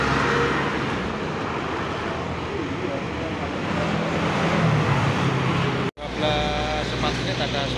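At a roadside bus stop beneath a toll road, dense traffic rumbles steadily and buses and cars pass close by. Voices can be heard under the traffic, and the sound cuts abruptly partway through.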